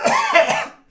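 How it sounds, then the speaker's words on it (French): An old man's violent cough, one harsh, close burst lasting under a second that is heard alone and then cut off. "Une énième quinte de toux, plus forte et plus violente, interrompit le vieil homme"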